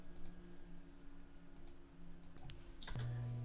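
Mouse clicks while adjusting Steam family sharing settings on a computer, a few sharp faint ticks spread over a quiet room hum, with a brief tonal chime near the end.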